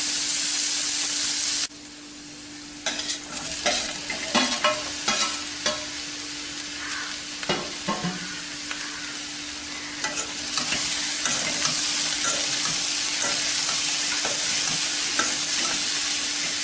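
Onions for a capsicum masala fry in a pan with a loud, constant sizzle and hiss, broken by repeated spatula scrapes and clinks, close up.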